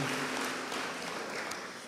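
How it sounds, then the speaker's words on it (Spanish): A church congregation applauds Pope Francis during a fourth Sunday of Advent service, with dense clapping that fills the whole moment at an even level and fades slightly toward the end. "denle un aplauso al Papa Francisco"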